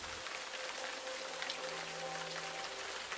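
Steady rain patters on a surface as a soft, dense hiss of drops, faint and even throughout with no voices.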